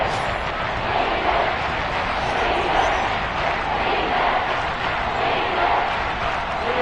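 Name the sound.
Seattle Seahawks stadium crowd noise, Madden video game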